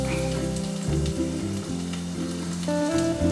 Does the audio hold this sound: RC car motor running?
no